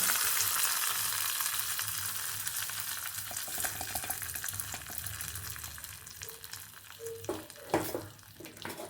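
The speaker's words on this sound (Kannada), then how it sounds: "ಒಗ್ಗರಣೆನ ಮಾಡಿಟ್ಕೊಂಡಿದ್ದೀವಲ್ಲ ಅದನ್ನ ಇದ್ರ ಹಾಕಿ" Hot tempering poured into doddapatre (Indian borage) tambuli gives a steady broadband sizzle and crackle that fades over about nine seconds, with a few small clinks and pops near the end, and no one is talking.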